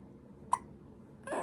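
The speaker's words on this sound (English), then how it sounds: "She's also got the hiccups" A newborn baby girl gives a single sharp, soft hiccup in a quiet room, followed a moment later by a brief rustle.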